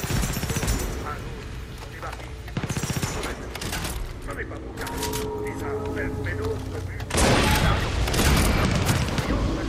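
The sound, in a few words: gunfire in the Far Cry 6 video game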